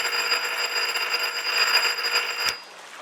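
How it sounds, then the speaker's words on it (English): An electronic gate buzzer at a fenced estate, one continuous harsh tonal buzz for over two seconds, loud and close, cutting off abruptly and leaving faint room tone. "There's a buzzer here."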